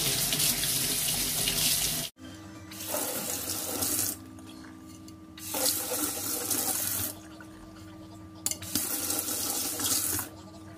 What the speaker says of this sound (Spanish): ahora lo que vamos a hacer es lavar los filetillos y ponerlos en papel secante